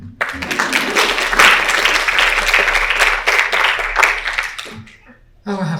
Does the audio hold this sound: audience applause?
yes